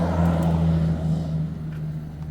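A modified 72V Mukkpet Ninja electric bike goes up on the throttle, giving a close, steady motor whine with a tonal hum that eases slightly as it pulls away.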